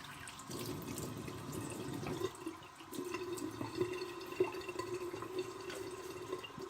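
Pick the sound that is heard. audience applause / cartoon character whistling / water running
water running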